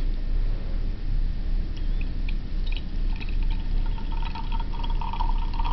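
Aqueous solution poured into a clean glass beaker, a steady liquid pour with faint splashing running throughout over a low background hum, with no talking.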